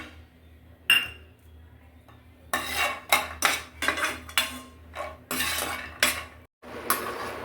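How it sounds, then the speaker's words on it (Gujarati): Cashews roast in ghee in a kadai while a metal spoon stirs and scrapes the pan in repeated clinking bursts, close and clear against a quiet background. "હવે ઘીમાં આપણે કાજુ રોસ્ટ કરીશું।"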